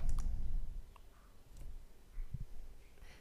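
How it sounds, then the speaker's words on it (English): A computer mouse clicks the start button in an Excel resource-leveling tool: a few faint, sharp clicks spaced apart over a quiet room hum. "I need to copy dates, click here, copy dates, and I will click start"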